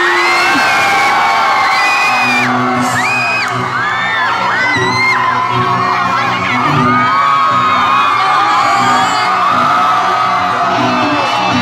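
An audience at a high school anniversary celebration cheering, whooping and yelling loudly and continuously to welcome a singer, a dense crowd roar throughout with a steady musical tone underneath.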